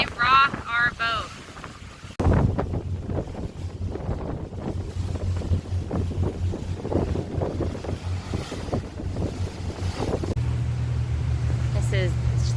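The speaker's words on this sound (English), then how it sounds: "Look at those waves. It's hard to see how big they are, but man, they rock our boat." Wind buffets the microphone aboard a trawler boat rocking in choppy waves, with a low rumbling engine drone underneath and a brief voice at the start.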